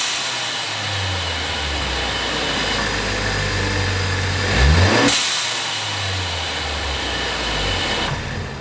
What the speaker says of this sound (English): There is a Turbosmart blow-off valve install on a 2017 Focus ST